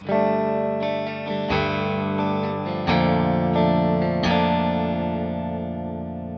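Clean electric guitar chords with no effects, played on the middle pickup, strummed and left ringing, several changes with long sustain, played alone.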